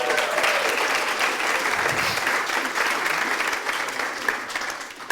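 Sustained audience applause fills a hall at a 2024 local legends honoring ceremony for a physician, dense and even for several seconds, with no talking.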